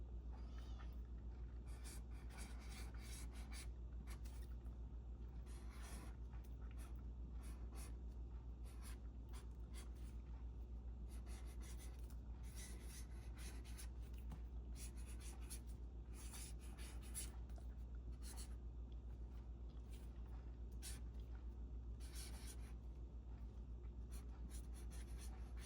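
A pencil or pen thickens hand lettering on paper, a faint, continuous scratching with irregular strokes over a low steady hum, quiet and close, with no talk.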